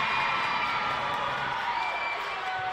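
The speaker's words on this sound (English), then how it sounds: "And the crowd's getting loud." Steady, loud crowd noise fills a basketball gym during a girls' 5A semifinal, a dense wash of cheering and shouting that holds throughout the short stretch.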